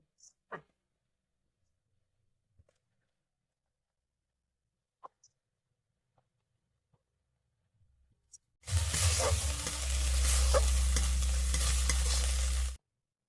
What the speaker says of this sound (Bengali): আর টক দই দেওয়ার সঙ্গে সঙ্গে নাড়তে হবে, না হলে বসে যাবে